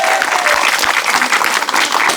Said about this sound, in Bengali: আমাদের এই প্রতিযোগীর জন্য জোরে করে একটা করতালি হয়ে যাক